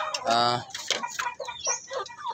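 A newly swapped rooster on a small farm lets out a short series of clucks and throaty calls, close and fairly clear, with a brief harmonic crow-like note near the start.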